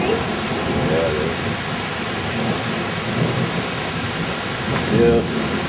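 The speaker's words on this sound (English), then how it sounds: "That storm seems pretty angry." A severe thunderstorm during a tornado warning brings steady rain and strong wind, a broad continuous roar with low rumbling, while voices talk faintly beneath it.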